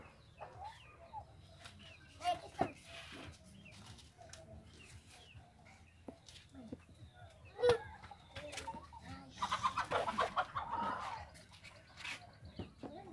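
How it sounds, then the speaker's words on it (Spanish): Soft, scattered chick clucks and peeps, faint and intermittent, with light rustling and a busier flurry of chirping near the end. "¿Pollitos tiene ahí? Sí, ahí tengo pollitos."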